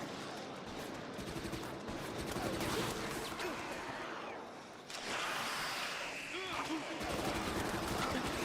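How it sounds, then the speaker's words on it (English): A suppressed SMG firing in a video game, a dense rapid patter of muffled shots running through most of the stretch, with a person talking over the gunfire. "I'm kind of liking the suppressed SMG,"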